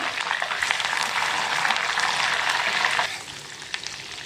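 Dense, crackling sizzle of curry leaves and spices frying in hot oil for tempering, loud and close, easing down a little toward the end.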